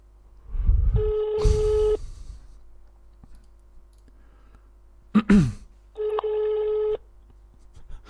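A telephone call being placed: a short burst of dialing clicks, then two long, steady electronic ringback tones separated by a pause, clear and close with no talking.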